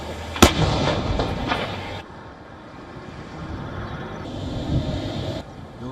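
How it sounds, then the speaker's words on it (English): Artillery barrages in war news footage: a sharp heavy blast near the start, then a rumbling continuous roar of distant firing and engine-like noise throughout, with no talk. "supported by artillery barrages and heavy firepower"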